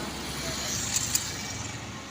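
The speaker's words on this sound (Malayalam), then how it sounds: "വയ്യാറ്റുപുഴയ്ക്കുള്ള വണ്ടിയാണ്" A bus bound for Vayattupuzha passes along the road on the Sabarimala route, a faint, steady rumble of traffic with a couple of short sharp accents in the middle.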